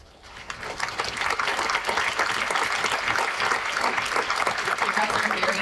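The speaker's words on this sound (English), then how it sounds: "You guys are very nice to applaud after every answer." Convention panel audience claps after an answer, steady dense applause swelling in after a quiet start and holding loud and even throughout, a large crowd heard from within the room.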